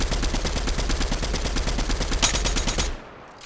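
Rapid automatic gunfire from an MK rifle in Fortnite, a loud steady burst of evenly spaced shots lasting nearly three seconds before cutting off abruptly, with no talking.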